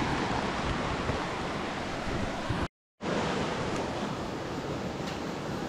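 Water heating for tea on a stove gives a steady, dense rushing hiss that is fairly faint and continuous. A brief silent gap falls about midway.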